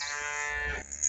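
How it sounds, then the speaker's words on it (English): A single cow on a farm gives a short, drawn-out moo that drops off abruptly, faint and somewhat distant, with no talk. "I know there's 4 or 5 cows over there."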